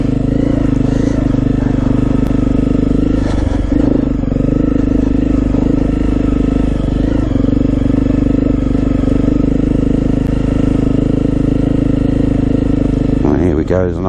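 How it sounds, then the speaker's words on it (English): A motorbike passes on a rural byway in Surrey, its engine droning loudly and steadily throughout, with a brief rise in revs near the end, heard from a nearby vehicle. "There's another motorbike, look."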